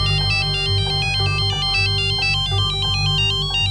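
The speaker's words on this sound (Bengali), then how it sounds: "যোগুর ফোন" A mobile phone ringtone in an Indian crime drama plays loud and close, a bright electronic melody looping its repeating notes steadily from start to finish, with no voices.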